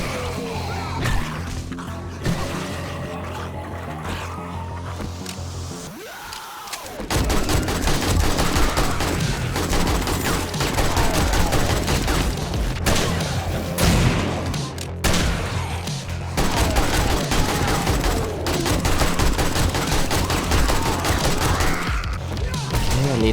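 Rapid bursts of AK rifle fire in the video game 7 Days to Die, fired in repeated volleys during a horde fight, loud and close with occasional heavier booms and brief gaps between strings of shots.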